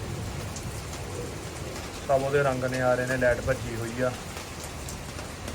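Steady rain falls in a farming village, a constant even hiss that stays in the background while someone talks.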